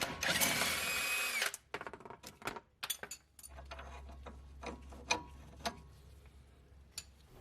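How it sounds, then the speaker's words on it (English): Impact wrench working on a 17mm shock absorber bolt nut on a G35: a dense rattling burst up front, then scattered tool clicks, knocks and short ratcheting taps against a low hum. "Go ahead and get a wrench on one side and use a impact on the other side to break the nut loose."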